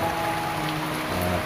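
Steady rain pattering on a surface, a dense even hiss with no voices.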